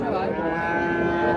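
A Friesian dairy cow moos in one loud, sustained, close-up call at a busy cattle market, with faint crowd murmur underneath.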